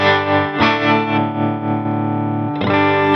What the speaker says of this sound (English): So foot switch 1 is just a tremolo